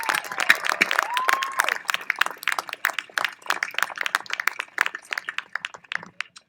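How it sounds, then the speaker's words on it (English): An audience at a Year 13 school graduation ceremony breaks into steady, dense applause, many hands clapping at once and holding an even level throughout, with no speech on top. "Can you join me in giving them a round of applause"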